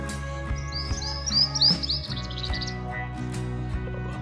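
Birds chirping outdoors on a sunny morning, a quick run of bright, close twittering calls in the first half before fading into a steady low background hum.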